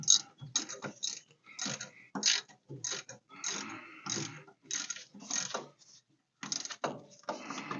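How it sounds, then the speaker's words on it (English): A hand ratchet tightens a small upper bolt while a Mopar disc brake conversion kit is fitted, giving bursts of quick, close clicking strokes with brief pauses between pulls. "This one I'm going to tighten by hand because I don't want to use the impact and break it since it is a smaller bolt."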